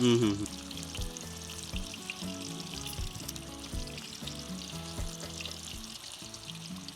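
Davangere-Kotturu style chilli fritters (mirchi bajji) frying in hot oil, a soft continuous sizzle and crackle heard close up, with faint background chatter.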